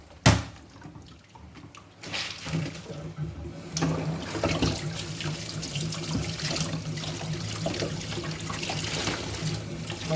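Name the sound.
water running while rinsing laundry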